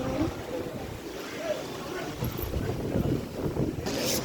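Steady wind buffeting the microphone with a low rumble, continuous throughout, with faint voices in the background.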